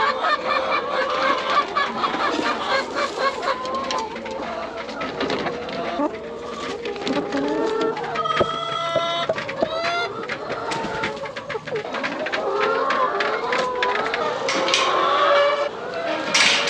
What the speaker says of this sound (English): as the chickens start to get more comfortable with you, when you're collecting eggs, they try and sit on your hands